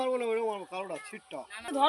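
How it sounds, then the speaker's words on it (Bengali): Domestic desi chickens cluck in a run of short, pitched calls close by, with a person talking over them. "বাড়ির মুরগি এইগুলো পোষা মুরগি"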